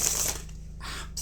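A Rider-Waite-Smith tarot deck being shuffled, a close papery riffle with a dense burst at the start, a quieter stretch, then two more rustling bursts, heard alone.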